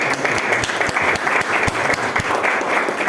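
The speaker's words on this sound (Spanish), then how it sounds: "dale el aplauso por el esfuerzo que haces" Audience applause at the Ventana Sur 2022 event: a close, dense wash of many hands clapping, steady and loud throughout, with no speech over it.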